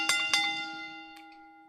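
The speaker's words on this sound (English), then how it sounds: "Juan, ring that bell." A ring bell struck twice in quick succession to open a wrestling event review, sharp metallic clangs followed by a long sustained ringing tone that slowly decays, loud and close with no talking.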